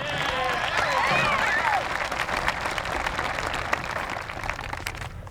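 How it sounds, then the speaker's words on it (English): Crowd at a 2021 high school graduation ceremony breaks into applause, dense clapping with some whistles and cheers early on, continuing steadily and thinning slightly toward the end. "Now, round of applause for them."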